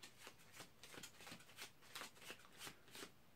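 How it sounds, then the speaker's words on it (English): Playing cards are riffled and shuffled by hand in a quiet room, a series of soft, rapid, papery flutters repeating in a regular rhythm, close but faint, with no speech. "then give the cards a bit of a shuffle"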